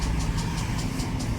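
Yamaha Mio Gear 125 scooter with a hard-starting, low-power engine fault, its motor turning over and running with a rough, uneven pulsing rhythm, close and steady.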